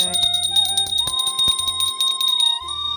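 A metal temple bell rings repeatedly with bright, sustained tones during a visit to a village temple, struck several times in quick succession, close and loud over background ambience.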